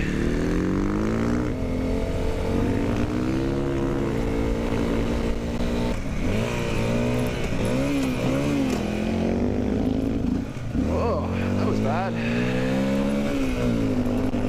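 Honda CRF250L dirt bike riding through sand in a forest, its single-cylinder engine droning loud and close throughout with rising and falling revs as it shifts, the pitch dipping briefly near the end.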